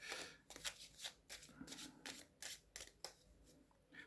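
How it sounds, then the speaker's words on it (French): Oracle cards being shuffled by hand in a quiet room: a run of papery swishes and riffles in uneven rhythm, close and fairly soft. "je vais peut-être tirer quelques cartes"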